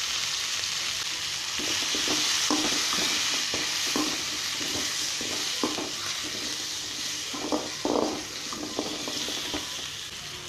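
Curry leaves fry and get stirred in a pan of onion, tomato and turmeric for a Chettinad fish kulambu, giving a steady loud sizzle with repeated scraping stirs throughout and no talking.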